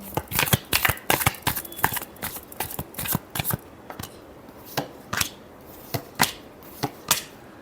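Tarot cards are shuffled by hand in a rapid run of crisp, close slaps and riffles, quickening then spacing out into separate snaps.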